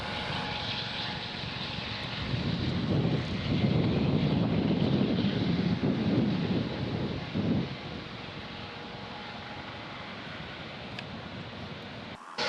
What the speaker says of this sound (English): The plane taxied down the beach with a police escort to begin the takeoff attempt into the wind.